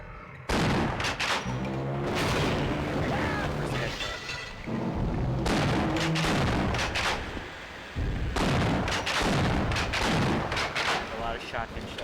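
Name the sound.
shotgun firing in the video game Half-Life (PS2)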